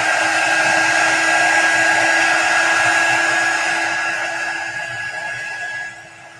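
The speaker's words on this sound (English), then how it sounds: "We'll get our dryer out." A handheld hair dryer blows loud and steady close by, drying chalk paste on a wooden craft cutout, then tapers off slightly toward the end.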